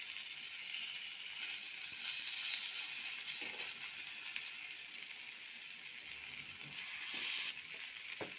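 Potato and Malabar spinach leaf vadas fry in hot oil over a low to medium gas flame, giving a steady bright sizzle with occasional soft bubbling bursts that carry on without a break.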